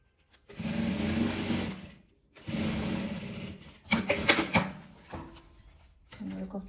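A sewing machine runs in several bursts, stitching over the seam of a fabric travel toiletry bag, with short pauses between runs and a voice speaking over part of it.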